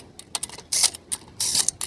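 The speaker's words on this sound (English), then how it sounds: "So this impact wrench isn't actually that strong. It's perfect to get this snug." A light impact wrench snugs the wheel lug nuts on a 2006-2011 Honda Civic during a brake pad job, with two short rattling hammer bursts among quick mechanical clicks, close up and with no speech.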